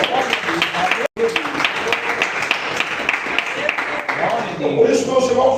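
Church congregation clapping in praise during a sermon, a broad rippling clatter of many hands with a brief dropout, voices mixed into the din.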